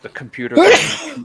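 A single sharp sneeze right after a few words of speech, close and fairly loud.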